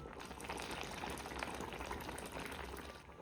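Hot water poured into rice in a pot for chicken plov, a steady close splashing and bubbling stream with no talking.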